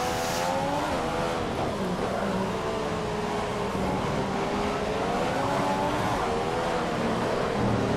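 F1 car at Monaco in the racing game F1 2015, its high-pitched engine whine climbing and falling with a sustained tyre-squeal texture during a heavy brake lock-up, loud and continuous throughout.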